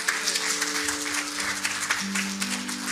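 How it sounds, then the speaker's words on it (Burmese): A congregation claps together in praise during a church service, producing a dense, steady patter of many hands over sustained tonal sounds. "လက်ခုပ်တီးပြီးချီးမွမ်းရအောင်"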